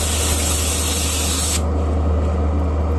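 Iwata Eclipse HP-CS airbrush spraying paint with the needle fully exposed, a loud, steady close-up hiss that continues unbroken and drops slightly in brightness partway through.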